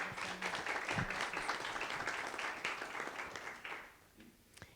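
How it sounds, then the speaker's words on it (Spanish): Steady applause from an audience fills most of the clip, then fades out toward the end. "Otro aplauso para Evelyn."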